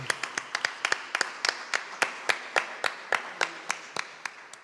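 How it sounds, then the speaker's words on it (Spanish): Church congregation at a Sunday celebration clapping, faint and distant, a steady rhythmic series of sharp hand claps keeping time without any voices. "Un fuerte aplauso a nuestro Señor."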